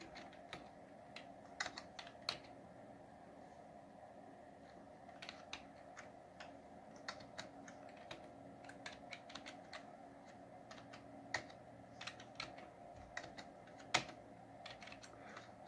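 Keys tapped on a computer keyboard while using the Lotus 1-2-3 spreadsheet, a quiet, uneven run of sharp clicks, some isolated and some in quick clusters, over a faint steady hum.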